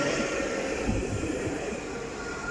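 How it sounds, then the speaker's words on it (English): A Nottingham Express Transit tram bound for Clifton South passes at Basford: a steady, close low rumble of wheels and motor with broad hiss, constant and fairly loud throughout with no speech. "We now see another tram bound for Clifton South."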